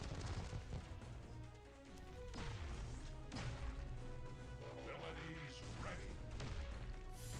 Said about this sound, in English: Beast Wars Prowl is smashing through them walls